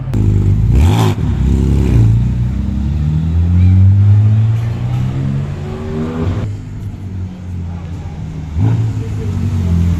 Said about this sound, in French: la voiture rentre dans les stands pour pouvoir refroidir